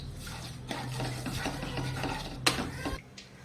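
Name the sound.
mixing chopped pistachios, crushed peanuts and coconut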